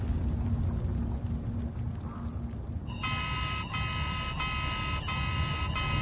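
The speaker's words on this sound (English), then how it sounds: "OK, alarm." An alarm in Immortals of Aveum starts partway through, a loud repeating electronic tone pulsing in regular bursts over a low rumbling game ambience.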